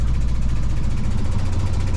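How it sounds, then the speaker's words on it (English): A warmed-up Universal M-25XP marine diesel on an Ericson 32 Mark III sailboat idles close by, giving a steady, rapid low chugging rumble with no other sounds. "right now I've been running the engine for about a half hour just to kind of heat it up"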